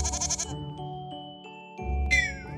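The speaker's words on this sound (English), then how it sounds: "G is for goat." A goat bleats loudly and close by in a short, wavering call, followed by steady tonal background sounds and a second brief, bright bleat-like cry.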